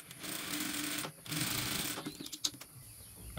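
A sewing machine stitches cotton fabric for a Christmas patchwork quilt block, running in close, steady bursts of rapid needle clatter separated by brief pauses.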